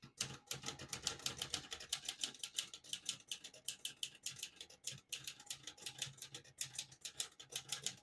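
A 1965 Olivetti Lettera 32 portable typewriter typing: rapid, steady clacking of keys striking through a dual black-and-red ribbon, close and crisp with brief pauses, no voices.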